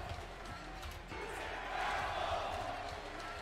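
A wrestling arena crowd at an animated wrestling event gives a mixed reaction of boos and cheers as a wrestler enters, a steady loud roar swelling slightly midway and holding to the end.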